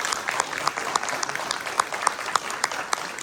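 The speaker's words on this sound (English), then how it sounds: "please give a round of applause to thank our panelists" Audience applause thanking panelists at a university talk on the aging population, a crisp, fairly close patter of many hands with distinct individual claps popping out, steady throughout.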